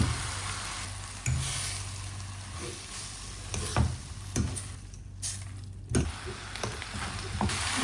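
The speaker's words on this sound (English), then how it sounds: "Add our noodle, mix all together." Prawn Hakka noodles are stir-fried in a pan, with a constant sizzle broken by repeated sharp scraping and tossing strokes at uneven intervals, close and fairly loud, without talk.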